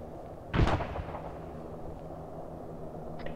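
Single heavy artillery blast in an ArmA 3 firefight in Malaysia, a sharp boom that rolls off into a decaying rumble over a steady low background hum.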